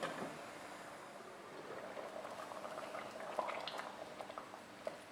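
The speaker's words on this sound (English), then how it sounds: "So our rajma has been simmering for a good 12 minutes." Rajma (kidney beans) simmering in a thick masala on low heat, giving a quiet, steady bubbling with small pops and blips. The sound is faint and close, with no talking.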